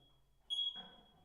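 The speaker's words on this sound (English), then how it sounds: "It's alright, Anton's going to sort that beeping, don't worry." A single short, high-pitched electronic beep sounds once, fairly faint, followed by a brief low rumble.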